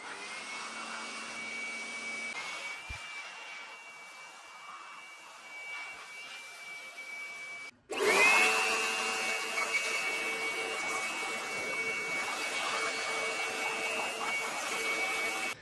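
A Wadfow 400W electric blower whines steadily and loudly near the microphone, starting after a brief cutoff and running without pause, preceded by quieter machine hum.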